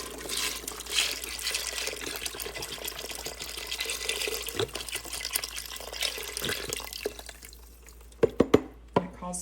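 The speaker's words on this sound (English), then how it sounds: "4 cups of chicken stock" Chicken stock, four cups of it, poured into an Instant Pot holding beans and a taco bowl mixture, giving a steady close liquid splashing and trickling that ends in a few sharp drips and knocks.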